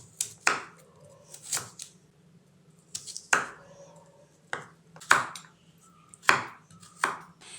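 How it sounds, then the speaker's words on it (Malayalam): Vegetables for a raw mango salad are chopped with a knife on a board, about nine crisp, separate cuts with short pauses between them, close and fairly quiet. "അങ്ങനെ നമുക്ക് ഈ വെജിറ്റബിൾസ് എല്ലാം കട്ട് ചെയ്ത് ചേർക്കാം."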